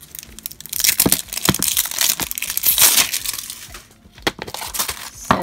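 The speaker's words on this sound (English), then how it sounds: "And then they're individually wrapped with tissue paper." Tissue paper being unwrapped from a LOL Surprise Sparkle Glam Glitter & Bling blind bag toy ball, giving close, loud crinkling and crumpling bursts with brief pauses throughout.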